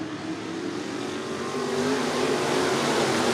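IMCA Sport Mod race cars roaring around the dirt oval at Cottage Grove Speedway during a heat race, a steady loud blare of engines holding at full throttle and swelling slightly as the pack passes.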